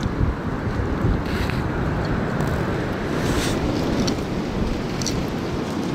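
Wind rushes steadily across a microphone outdoors on a deer hunt, a continuous low buffeting roar with faint rustling on top, no voices.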